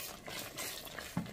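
A pot of paprika-seasoned rice sauce simmering gently, a faint, soft bubbling and low murmur with a slightly louder pop near the end, quiet and close.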